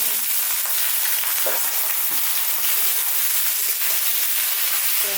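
Pointed gourd and potato frying in a pan with oil, a steady loud sizzle throughout with a few soft stirring scrapes, no voices.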